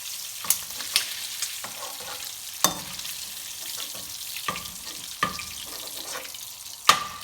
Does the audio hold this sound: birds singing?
no